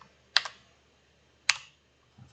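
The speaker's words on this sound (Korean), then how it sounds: "일단 그대로 한번 타이핑을 해 보도록 하겠습니다." Typing on a computer keyboard: two sharp close key clicks about a second apart in a quiet room.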